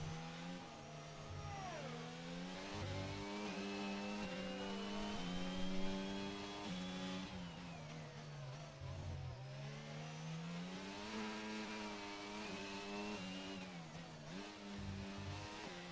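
A Formula 1 car on a qualifying lap in Azerbaijan screams through its gears, the engine pitch rising and dropping with shifts and braking, loud and sustained throughout with no talk.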